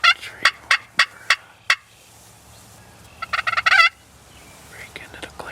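A wild turkey gobbles in open farmland during a Wisconsin spring hunt: a rapid series of six sharp, loud gobble bursts, then a quieter pause and a second, denser rattling gobble volley, heard fairly close with no talk.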